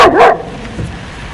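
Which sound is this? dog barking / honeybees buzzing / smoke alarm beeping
dog barking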